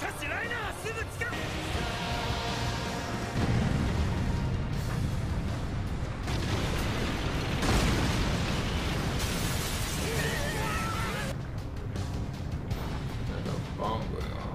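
A bomb goes off in an Attack on Titan anime battle scene, a long loud roaring blast and rumble with bursts and crackling debris, mixed with dramatic music and voices.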